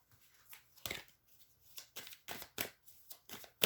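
A deck of tarot cards being cut and handled, giving a series of short, crisp papery snaps and riffles spaced irregularly, fairly close and quiet, with no talking.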